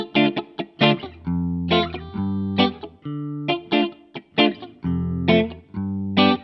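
A distorted electric guitar plays a choppy riff of short, punchy chords and palm-muted bursts, dry and close without any envelope filter, with brief gaps between phrases.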